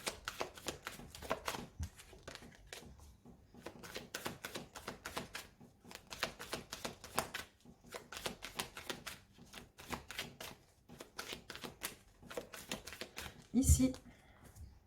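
Tarot cards being shuffled and cut give off a long run of quick, crisp riffling and tapping bursts in an uneven rhythm, close and moderately loud, with a sharper clack near the end.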